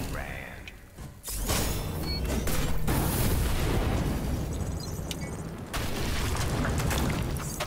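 Enemies blowing up in The Surge, a heavy booming blast that swells into a sustained loud rumble and crackle, followed by a second surge of explosive noise a few seconds later.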